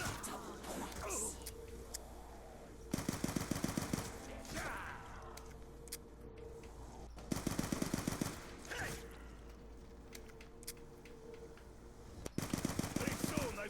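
Bursts of automatic gunfire from Call of Duty zombies on the Origins map, several rapid volleys separated by quieter stretches of game sounds and movement.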